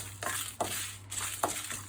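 Coriander and fennel seeds dry roasting in a pan, stirred in three soft scraping sweeps over a low steady background hum, quiet and close with no talking.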